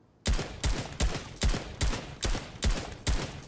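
In Fortnite, an AK and a SCAR are fired at a brick wall, giving eight evenly spaced, punchy single shots in a steady rhythm, close and loud against a quiet background.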